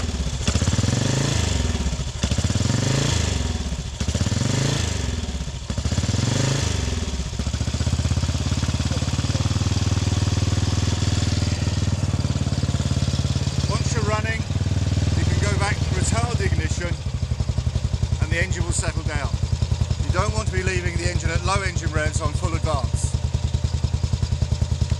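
A Velocette Venom Thruxton motorcycle with a racing carburettor gets several rhythmic kick-over attempts before its engine catches and runs with a loud, steady single-cylinder thump, rising and falling with the throttle.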